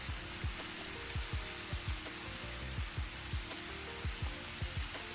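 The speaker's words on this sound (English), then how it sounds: "You want to hear that nice sear." Pork chops sear on a Blackstone griddle, a steady close sizzle holding for the whole stretch with a run of soft, regular knocks underneath and no talking.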